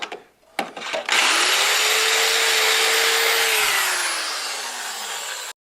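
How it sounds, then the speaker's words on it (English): A power drill boring into metal on a 1993 Ford Mustang GT during Panhard bar installation whirs up to a high, steady whine, holds for several seconds, then winds down, preceded by a few clicks and knocks. "my drill's going to be hitting this"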